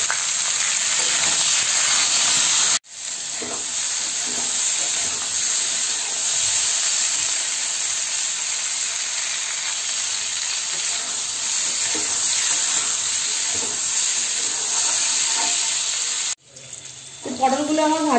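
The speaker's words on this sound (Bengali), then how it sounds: "পটলগুলো আমার ভাজা হয়ে গেছে" Pointed gourd sizzles and spits in hot oil with salt and turmeric in a home kitchen pan, a loud, steady hissing fry that runs continuously before cutting off abruptly, with a brief voice at the end.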